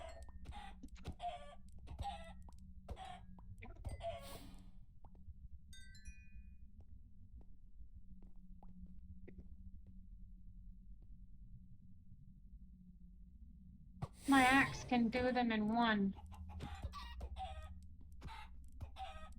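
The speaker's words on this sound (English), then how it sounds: "These are sparkly chickens." In the video game SkyFactory 5, sparkly chickens give quick rhythmic clucks with short percussive hits, a sparkling chime and a longer squawking call, while a person speaks briefly.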